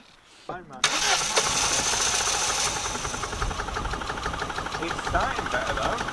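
An old Rover's engine, started for the first time in 20 years, cranks and catches, then settles into a rough, knocking idle, close and steady, with voices speaking briefly over it.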